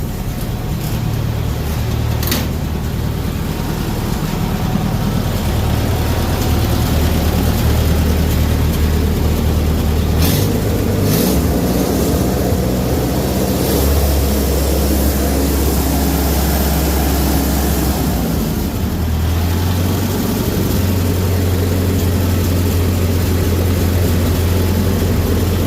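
A Ferguson TO-30 tractor engine runs steadily for the whole stretch, a loud low-pitched chugging drone with slight shifts in pitch and a few clanks, close by and without talk.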